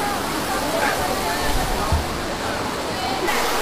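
Steady rushing of flowing water along a stone-paved lane in Lijiang old town, a dense, continuous wash at close range with faint voices mixed in.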